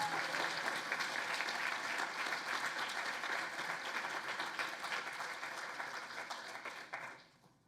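An audience at a university engineering awards ceremony applauds its nominees, steady dense clapping that holds for several seconds before quickly dying away.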